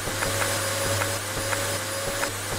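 A vacuum cleaner in a house-cleaning video game hums steadily at close range, with a faint high whine and small rhythmic clicks or bumps repeating about twice a second; no voices.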